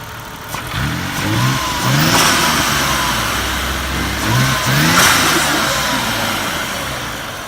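A 1993 Dodge Stealth R/T twin-turbo engine with a blow-off valve revs in several short rising bursts over a steady rumble, each throttle blip climbing then dropping back, close and loud.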